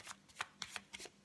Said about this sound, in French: Je mélange correctement mes cartes.